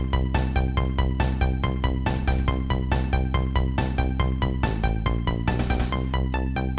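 A drum beat preset from Music 3000 plays a steady, looping electronic rhythm of sharp, evenly spaced hits over a sustained tonal bed. It is loud and continuous, with no one talking.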